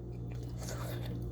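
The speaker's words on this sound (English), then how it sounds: "Garlic. Just take that bite." A single close, soft bite into a hot clove of roasted garlic from a Puerto Rican pork shoulder cooked in an oven bag, brief and muffled over a low hum.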